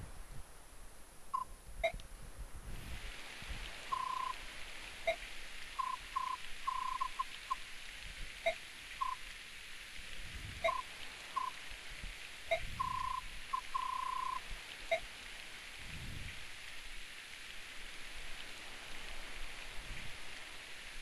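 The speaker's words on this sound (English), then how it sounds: "I thought all of a sudden it just starts raining." Steady rain hiss in the GameCube game Fire Emblem: Path of Radiance, with short electronic beeps and blips from the game over it, faint and continuous, with no talk.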